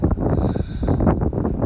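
Strong wind gusting across the open ground at Stonehenge, a close, rumbling buffet of wind on the microphone that holds steady with brief dips throughout.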